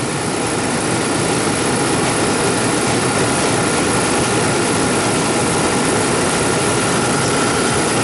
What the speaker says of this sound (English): It's nice to sit in front of a condenser fan in the winter time, but not in the summertime.